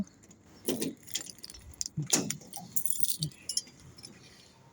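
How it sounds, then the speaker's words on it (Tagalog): Keys jangle on a ring being handled near the door of an apartment, several bright metallic shakes and clinks in short bursts with quiet pauses between, close and fairly clear. "Ayan, ito yung susi ko."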